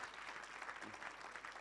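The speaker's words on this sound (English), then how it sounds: "Can we, for the last time, give them a round of applause?" Brief round of applause from a small audience at a pitching workshop breakaway session, soft, dense clapping heard at a distance.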